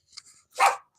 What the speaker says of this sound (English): My dog is so loud and she's so rude.